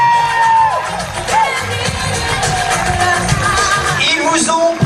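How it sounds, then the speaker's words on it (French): An audience at an open-air pow-wow show claps and cheers loudly, with shouts and whoops from adults and children rising over a busy crowd din. "continuez les applaudissements pour Jonathan, pour Carole, pour Albin et pour Gérald"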